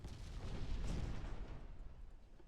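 Naval 8-inch guns firing in the warship game Ultimate Admiral Dreadnoughts, a broad rumbling boom that swells and slowly decays over a couple of seconds, dense and heavy, with no talking.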